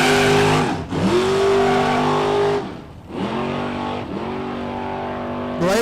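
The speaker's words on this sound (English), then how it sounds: "Blazing the tires down there" A truck at a no-prep drag strip revs hard on a test pass, spinning its tires, with a loud engine roaring, dropping and climbing again in repeated pedaling bursts.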